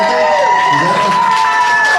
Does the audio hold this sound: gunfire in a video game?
no